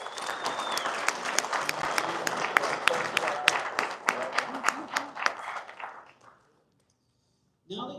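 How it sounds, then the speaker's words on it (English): An audience gives a round of applause for the designers at a Creality product launch, distinct individual claps standing out over a busy, lively patter that fades out to silence, followed by a brief sound at the very end. "Let's give them a little bit of a round of applause."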